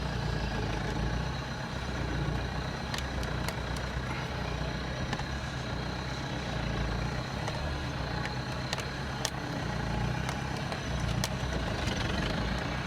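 A modified Mahindra Bolero's engine drones steadily in first gear while crawling over rough off-road terrain, a continuous low rumble with a few faint higher clicks and beeps.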